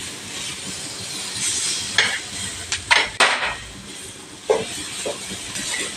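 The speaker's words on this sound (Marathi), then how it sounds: "आत्ता आधी आपण हे चांगलं भाजून घेऊया हे खोबरं घातलंय" Dry coconut roasts with spices in a pan, a quiet sizzle broken by several sharp scraping strokes of a spatula stirring, close and with no speech.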